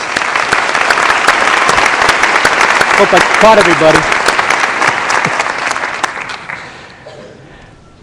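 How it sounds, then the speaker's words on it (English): Sustained audience applause fills a hall at the 2011 winter commencement ceremony, loud and dense for about six seconds before tapering off, with a voice speaking over it. "Please give them a round of applause."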